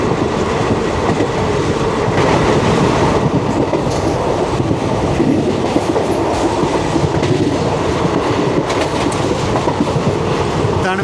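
Interior of the 22652 Chennai Superfast running near Meenakshipuram station, a continuous loud rumble with rhythmic clickety-clack of wheels over rail joints throughout, no voices.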